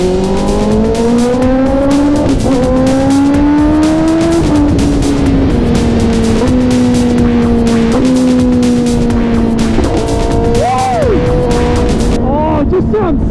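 A 1000cc sport motorcycle with a quick shifter accelerates hard and loud, its engine note climbing through several rapid upshifts with brief blips between gears, close to the rider over constant wind noise.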